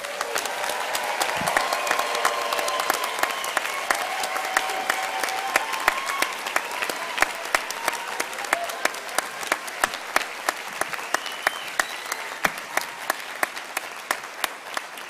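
Applause from the audience at a university doctoral graduation ceremony, broad clapping that gradually thins into scattered, distinct individual claps standing out sharply over a softer crowd wash.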